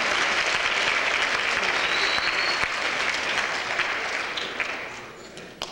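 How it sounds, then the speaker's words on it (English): A crowd applauds for Scott at the Coon Rapids Snowflake Days event, with dense, sustained clapping that swells at first and then gradually thins and fades near the end. "let's have a round of applause for Scott"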